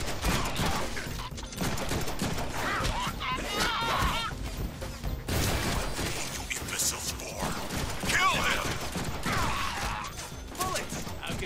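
Rapid gunfire and crashing impacts from the Deadpool video game on PS5 play continuously and loudly, with bursts of shots and metallic clatter layered over game voices.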